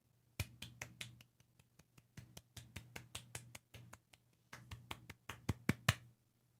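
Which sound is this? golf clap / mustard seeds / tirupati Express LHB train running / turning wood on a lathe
golf clap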